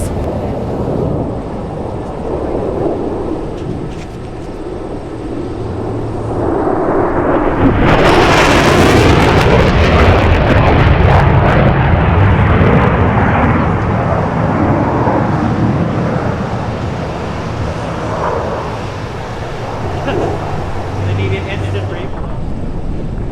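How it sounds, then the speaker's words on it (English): An F/A-18 Super Hornet in maximum afterburner passes low at an air show, its roar building to a thunderous peak and then slowly fading, with an announcer's voice heard beneath it. "The aircraft will pass show center in a 90-degree angle of bank at 200 feet in maximum afterburner"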